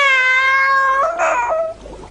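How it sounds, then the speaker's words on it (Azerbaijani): A cat meows clearly and close, with a long drawn-out call followed by a shorter rising cry, then a brief pause. "Mənim pişiyim, mənim məstanım, nəxmər tüklü pişiyim."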